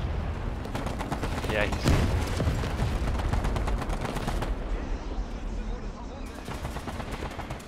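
Rapid bursts of automatic gunfire from a first-person shooter game crackle steadily throughout, with a louder boom near two seconds and brief voices talking over the shooting.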